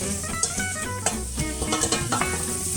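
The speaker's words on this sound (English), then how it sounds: "you can throw in the onions and start to give this all a little whirl" Onions sizzle in olive oil while being stirred in a pan, a steady close frying hiss broken by repeated scraping clicks of the spoon against the pan, with no voices.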